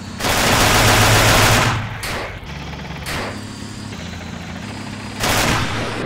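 Mortar rounds fire in the Achtung Panzer war video game. A dense, loud roar of blasts lasts nearly two seconds, then gives way to a lower rumbling engine bed with softer bursts, and another heavy burst comes near the end.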